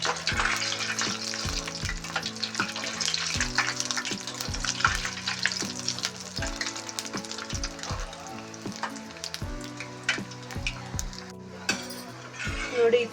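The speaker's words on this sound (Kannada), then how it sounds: "ಇದನ್ನು ಚೆನ್ನಾಗಿ ಫ್ರೈ ಮಾಡ್ಕೊಳ್ಬೇಕು" Baby corn frying in hot oil for Manchurian, a continuous close sizzle with repeated clinks and scrapes of a spoon stirring in the pan, with faint music underneath.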